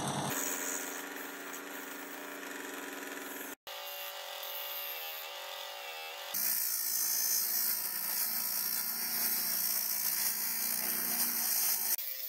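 A small 135-watt bench grinder motor hums steadily, with a brief cutout partway through, then runs louder with a bright high whine for the rest.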